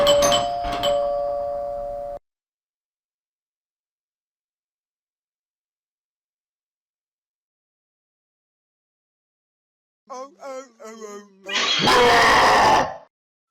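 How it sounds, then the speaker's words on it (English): A doorbell chimes a couple of times at the start in an Xbox 360 indie horror video game, followed by a long silence, then groaning, strained vocal sounds and a loud, harsh screech near the end. "the doorbell rings"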